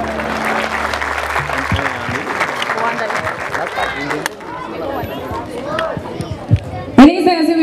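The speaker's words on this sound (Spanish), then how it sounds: "Claro que sí, el aplauso." An audience at a mariachi graduation celebration applauds, loud clapping mixed with crowd chatter and voices, tapering toward the end before a sharp instrumental note.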